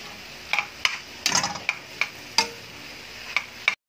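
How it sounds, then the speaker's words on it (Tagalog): Quick stirring of sautéed bitter gourd with egg in a pan: a series of sharp, separate spatula clinks and scrapes over a faint sizzle, close and clear with no talking. "Isang mabilis na halo."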